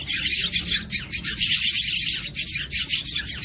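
A Javan myna (jalak kebo) chick begging while being hand-fed, its loud, harsh squawks repeating in rapid pulses without pause, very close and alone.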